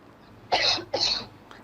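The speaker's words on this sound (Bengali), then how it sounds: "আপনি একটু কাশি দেন এভাবে" Two quick, forceful coughs from an adult patient demonstrating at a doctor's request, close and clear, with a short gap between them and a quiet room behind.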